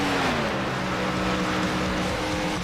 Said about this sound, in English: You hear that? It's cars on track.